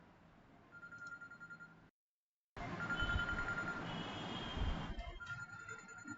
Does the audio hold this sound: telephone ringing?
yes